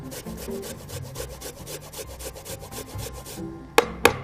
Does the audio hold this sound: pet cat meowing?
no